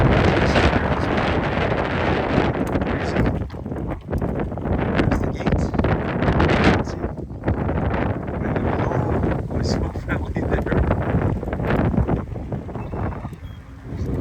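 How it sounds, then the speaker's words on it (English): Wind gusts buffet the microphone near a lake, roaring steadily and loudly throughout with rushing, uneven swells that dip and rise. "The breeze is coming up pretty good right now."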